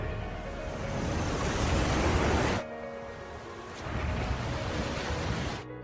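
Roaring tsunami waves in an animated film, a dense wall of rushing water noise that cuts off abruptly, then returns a little softer before stopping again.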